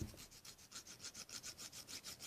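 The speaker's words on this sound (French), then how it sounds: "Donc, en premier, on va bien limer les ongles." A nail file rasps across fingernails during a French manicure in quick, even back-and-forth strokes, about five per second, soft and close with no talking.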